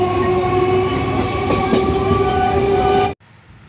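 Inside a moving train carrying passengers home, a steady loud rumble with droning tonal hum and faint rhythmic clatter runs on, then drops away abruptly just before the end.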